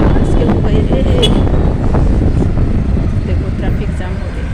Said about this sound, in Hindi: देखो ट्रैफिक जाम हो गई।